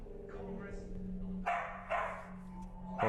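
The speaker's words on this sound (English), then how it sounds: "Dog." A dog barks a few times indoors amid a Halloween ghost-hunting setting, short sharp barks at a moderate distance over a steady low hum, with people talking around them.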